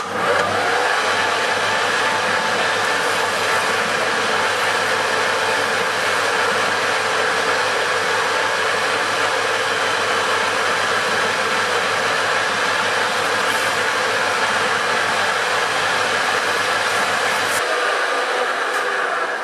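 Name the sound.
machine polishing reamed valve seat cutter holes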